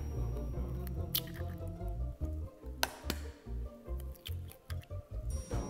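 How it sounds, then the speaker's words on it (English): Eggs cracked for crepe batter, heard as a series of sharp taps and squishy clicks close by, followed by soft drips and small kitchen handling noises, with no talk. "first we'll break the eggs"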